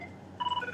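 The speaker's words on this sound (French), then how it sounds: "le téléphone sonne." A telephone rings with a thin, steady electronic tone that pulses in short repeated bursts, faint against a quiet background.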